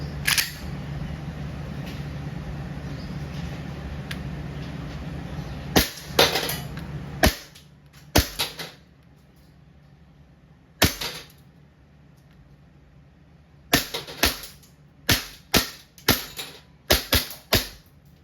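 A WE Glock 19 Gen 5 gas blowback airsoft pistol fires a run of sharp, loud cracks, first a few spaced shots and then a quick irregular string of reports, with a hissing background between the bursts.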